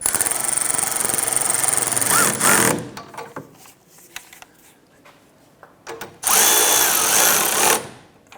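A power tool on a Chevrolet Impala rear sway bar end link nut, whirring loudly for about two and a half seconds, then quieter clicks and handling, then another short whirring burst.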